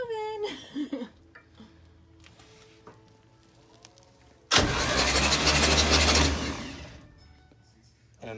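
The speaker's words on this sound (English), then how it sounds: "We're going to crank her over here." A 1965 GMC Handi-bus engine cranks and catches in a loud, dense burst of roughly two and a half seconds after several quieter seconds of small shop noises, then drops away.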